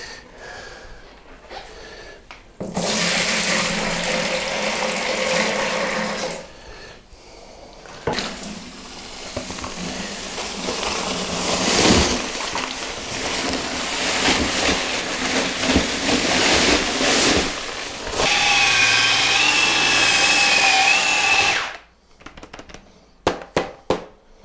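Mortar being mixed for the base of a walk-in shower gives a loud, sustained gritty churning and scraping that runs almost without a break for about twenty seconds, with brief pauses near the start and a whining tone before it stops abruptly; no one talks.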